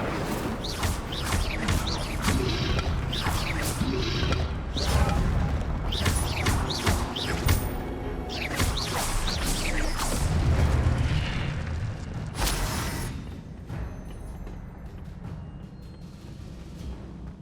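Fire spell blasts in the Hogwarts Legacy video game, a rapid series of loud bursting booms and crackling impacts for about twelve seconds, then fading to a quieter rumble.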